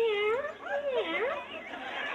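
A human voice imitates a whiny kitten, making a long wavering, complaining meow that rises and falls in pitch, loud and close.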